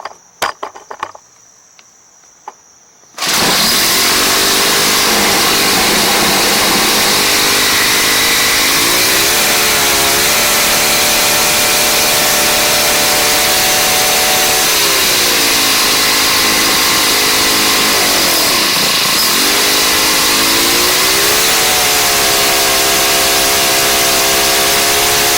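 A Craftsman 29cc four-stroke weed trimmer engine fires after a few quiet seconds and runs loud and steady nearby, with its pitch dipping and rising several times as the throttle changes.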